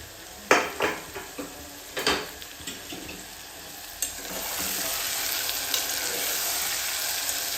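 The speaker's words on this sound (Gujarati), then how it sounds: "ચોળી છે એ તેલમાં સરસ મજાની સંતળાઈ જાય અને તેલ છૂટું પડવા લાગે" Green cowpeas sautéing in oil in a loosely covered pressure cooker: a few sharp metallic stirring clanks early on, then a steady close sizzle and frying hiss that swells and holds.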